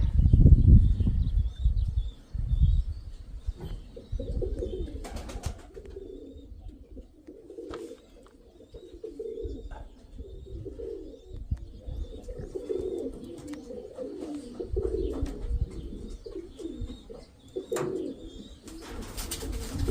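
Mykolaiv pigeons cooing in soft, repeated throaty phrases, fairly close, with scattered fluttering and handling noises; louder rustling and knocks open the scene.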